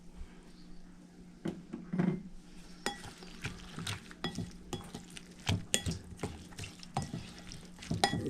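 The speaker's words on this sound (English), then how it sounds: "Give them a good mix so all ingredients get blended together nicely and evenly." Breakfast ingredients and milk being mixed in a bowl, with repeated clinks and scrapes of a utensil against the dish in a steady irregular rhythm, quiet and close with no talking.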